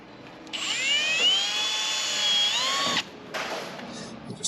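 A power tool grinds a slot for winch wiring during a Prado winch install, a loud high-pitched whine like a dentist's drill that runs for about two and a half seconds, then stops and restarts briefly.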